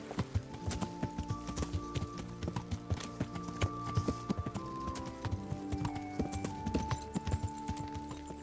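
Horse hooves clip-clop steadily on a road in the medieval game Kingdom Come: Deliverance, a continuous rhythmic trot with layered game ambience and faint tonal music beneath, no talk over it.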